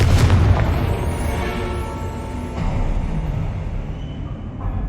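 A Confringo explosion spell goes off in Hogwarts Legacy, a heavy booming blast that opens loud and then trails into a long rumbling roar, with a second swell of rumble partway through.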